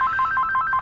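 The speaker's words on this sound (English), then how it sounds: "that's when the phone rings" Telephone in a woodworking shop ringing with a rapid warbling electronic trill, alternating two tones in quick pulses, clear and close with no one talking.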